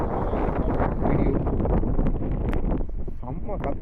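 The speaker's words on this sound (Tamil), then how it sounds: "செம்ம காற்று சவுண்டு." Strong wind roars across an empty beach with small waves, a steady loud rushing and buffeting that fills the clip, with a voice briefly audible near the end.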